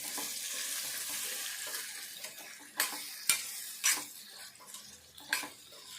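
Tomatoes sizzle with onions in a pan for a Telugu-style curry, a steady hiss of frying broken in the second half by several distinct scraping stirs of the spoon.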